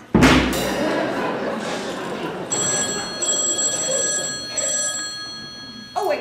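A telephone rings from inside a shoe phone, a steady bright electronic ring starting partway through and continuing in bursts over rain-like background noise, with a thump near the start.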